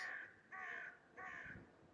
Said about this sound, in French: Ah, ça, c'est un corbeau.